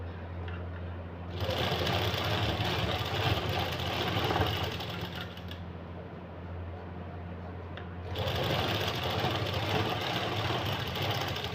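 A sewing machine stitches lace onto a printed suit shirt, running in two long steady bursts with a short slower pause between them, close and continuous with no talking.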